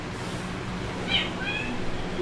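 A domestic cat gives a couple of short, faint, high meows in the middle of the clip over a steady low background hum, with no one talking.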